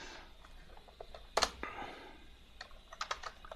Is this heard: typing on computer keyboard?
yes